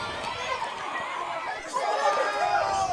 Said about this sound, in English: the Fremington crowd have come alive here at the county ground